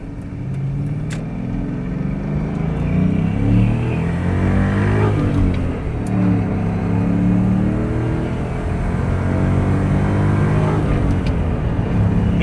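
A 1996 Ford SVT Cobra convertible's 4.6-litre, 305-horsepower engine drones close by as it drives, the pitch climbing and then dropping again at gear changes of its five-speed manual, a continuous rumbling with no voices.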